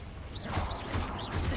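A Confringo fire blast spell is cast in the Hogwarts Legacy video game, three quick rising whooshing swells with low thumps about every 0.4 seconds, fairly faint over a dense noisy background.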